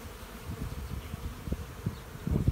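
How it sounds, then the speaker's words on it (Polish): Steady low buzzing of honeybees, close and continuous, with some louder thumps and rustles near the end. "Młode pszczoły przeglądają"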